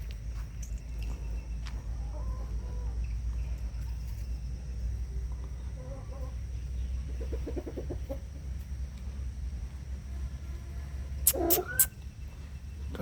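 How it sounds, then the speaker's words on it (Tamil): Kattamookku breed chicken clucking in a few soft, separate bursts over a steady low rumble, ending with a brief louder cluck. "இது வந்து கட்டமூக்கு கோழி, பார்க்க நல்லா இருந்துச்சு"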